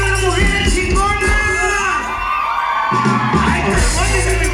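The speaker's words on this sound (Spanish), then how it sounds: "queremos escuchar el grito de la mujer chingona" A woman lets out a Mexican grito during a son del maromero performance, long whooping calls rising over a loud cheering and yelling crowd with music underneath.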